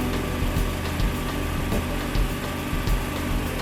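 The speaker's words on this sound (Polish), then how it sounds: "Silnik uruchamia się za pomocą rozrusznika lub szarpaka." A Dynamo DY6020 Pro 5000 W petrol generator engine runs at a steady, loud idle-like drone with a continuous buzzing hum and a faint rhythmic pulsing, with no talk over it.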